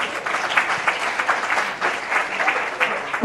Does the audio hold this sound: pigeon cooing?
no